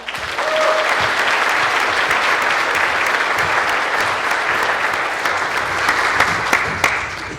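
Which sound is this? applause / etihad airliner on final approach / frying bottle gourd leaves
applause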